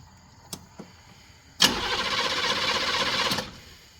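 A Buick diesel engine cranks on its starter after the starter was reinstalled and the batteries reconnected: a steady, loud, churning whir of about two seconds, with no firing, after two faint clicks.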